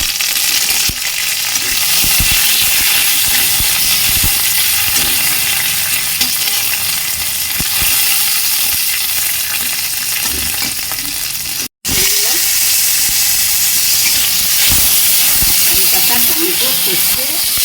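Bay leaf, dried red chili, mustard seeds and five-spice tempering crackle in hot oil for a lentil dish, a loud continuous sizzle with a brief cutoff midway and scattered pops, with no talking.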